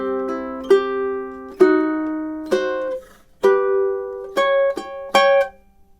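Plucked ukulele plays two measures of the Nutcracker March, a string of bright ringing notes and chords in a steady march rhythm with short gaps between them, close and clear with no talking.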